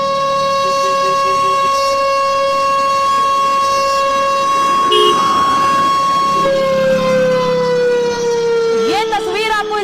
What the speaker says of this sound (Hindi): पाकिस्तान के कई शहरों में यह सायरन बज रहा है।